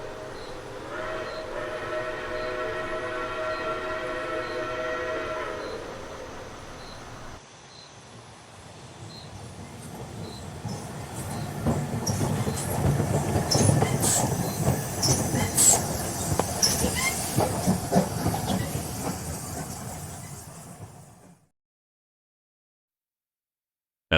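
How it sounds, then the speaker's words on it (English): A train arrives at a night station, opening with a sustained whistle and then a rising rumble of wheels with rhythmic clatter and squeals that grows loud before cutting off into silence. "The long-awaited train eventually materialized, its arrival marked by a distant whistle that shattered the eerie quietude."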